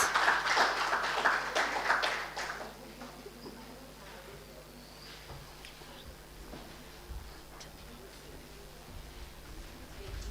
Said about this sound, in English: very loud round of applause